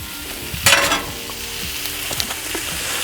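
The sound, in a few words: chopped ribeye sizzling on a Halo Elite griddle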